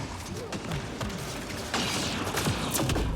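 Enemy nullifiers in Mass Effect Andromeda fire on a player behind cover, making dense, continuous weapon fire with sharp cracks over a background of game effects that grows louder partway through.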